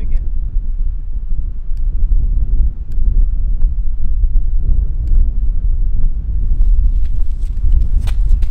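Strong wind buffets the microphone outdoors on New Year's, a continuous low rumbling gust noise with a few faint clicks, loud and close throughout.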